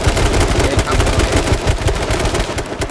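Dense, rapid gunfire from an online shooter game rattles continuously, loud automatic bursts layered over one another with no break.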